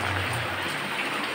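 Heavy rain falls steadily during an early-morning flash flood in Dadap village, Juntinyuat district, making a dense, even hiss of close downpour with no voices.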